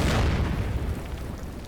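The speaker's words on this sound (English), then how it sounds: "I got a destroyer here that could provide some coastal artillery or some coastal fire." Naval destroyer coastal artillery fire in the Order of Battle: Pacific strategy game, a single deep booming blast that rolls out into a low rumbling tail, loud and close.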